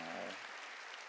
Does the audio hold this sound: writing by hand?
no